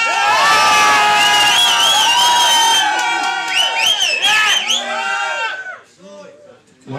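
A live crowd at a style competition erupts in loud, sustained cheering, shouting and whistling, with high children's shrieks mixed in. The roar stays dense for about five seconds, then thins into scattered yells.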